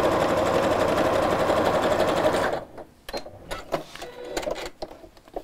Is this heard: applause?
no